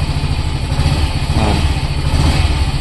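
A Yamaha Fazzio scooter engine runs at a steady idle close by, a dense low rumble with a slight swell partway through, and no voices.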